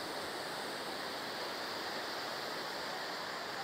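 Kothapalli waterfall in monsoon flow, a steady broadband roar of rushing water that stays constant and even throughout, at moderate distance.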